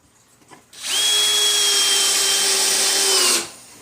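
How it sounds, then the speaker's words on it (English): Power drill driving a countersunk screw into a wooden planter board, a single continuous high-pitched motor whine lasting about three seconds, rising briefly at the start and cutting off sharply, close and loud with no talk. "So what I'll do is I'll put one here, countersink it a little bit."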